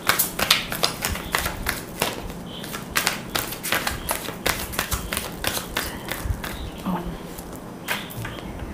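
Tarot cards shuffled by hand in a rapid run of crisp riffling taps and soft thuds, close and fairly loud, with only brief pauses between bursts.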